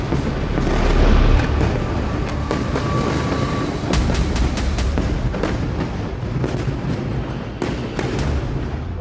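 Repeated explosions from an Israeli missile attack inside the Gaza Strip, a steady rumbling wash of deep booms with a heavy blast near the start and scattered sharp cracks later, loud and continuous with no talk.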